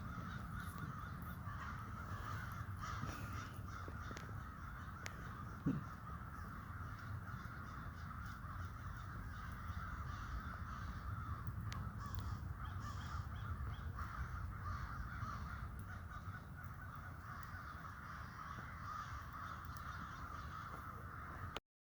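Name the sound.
crows cawing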